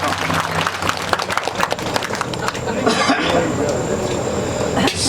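An audience at a comic poetry recital breaks into scattered clapping that fades into crowd murmur, with a cough and a voice speaking over it.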